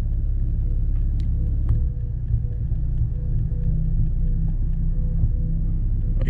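An Infiniti G35 engine idles with its idle raised through a scan tool, a steady low rumble with a few faint ticks and clicks over the hum.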